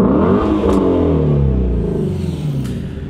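A powerful 5.2-litre V8 engine in a Ford Mustang Shelby GT350 revs up loudly close by, its deep rumble climbing in pitch, then easing back down.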